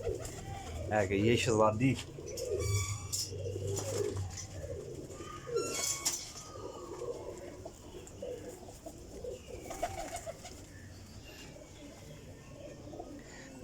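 Pigeons coo repeatedly at close range, with soft bird calls mixed in. Someone talks over and between the cooing.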